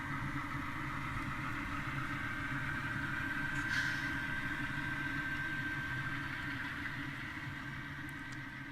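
Several HO scale model Great Northern locomotives produce a steady, quiet diesel engine drone from sound decoders. A faint thin whine runs through it, with no talk.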